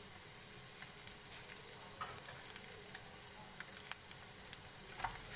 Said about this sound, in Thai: ผัดก่อนนะคะทุกคน